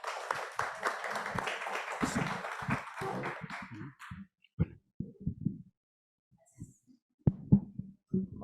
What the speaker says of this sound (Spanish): Recibámosla, por favor, con un fuerte aplauso.